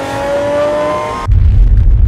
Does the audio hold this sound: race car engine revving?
yes